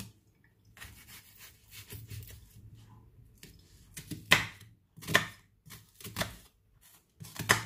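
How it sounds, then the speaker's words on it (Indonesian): An onion being chopped with a knife on a board, with quiet taps at first that grow into louder, quicker bursts of close, crisp strikes separated by short pauses. "Kita cincang bawang ini, bawang bombaynya."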